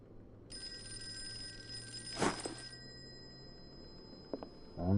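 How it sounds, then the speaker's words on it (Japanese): In the video game Call of Cthulhu, a telephone bell rings in a quiet room, one sustained metallic ring followed by faint clicks and a brief rustle. "電話がかかってきた。"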